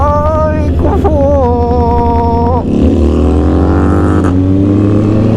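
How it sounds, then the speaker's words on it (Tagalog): A Honda CB650R motorcycle engine revving up loudly and close, its pitch climbing in steps, dipping briefly, then swelling into a sustained rising roar as the bike accelerates, with no talk over it. "O yung engine to, parang V-twin yung tunog eh"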